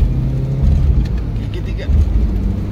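A Mitsubishi Lancer Evo 3 accelerates in second gear on a straight road, a loud low engine drone that rises and surges, with a driver talking over it inside the car.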